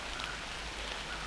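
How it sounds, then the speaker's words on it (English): Steady rain falls through woodland on a dreary November morning in Kentucky, a continuous close hiss of drops on leaves and ground with no pauses and no voices. "this dreary, rainy November 2nd"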